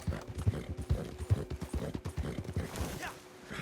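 Galloping hooves of a level 4 horse in Red Dead Redemption 2 Online racing across flat land, a quick, even rhythm of heavy thuds beneath a faint voice.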